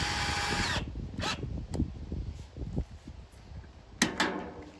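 A power drill spins a self-tapping screw into the front end of a Chevy G-series van during a grille swap, with a steady whirring drive that bogs and stutters, then restarts in a short second burst, close by.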